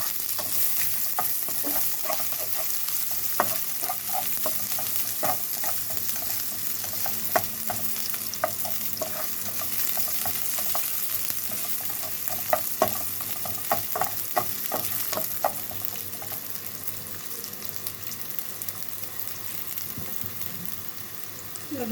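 Onions fry with garlic and ginger in a pan, sizzling steadily while a utensil scrapes and stirs in bursts of sharp clicks and taps, close and fairly loud, with no talking.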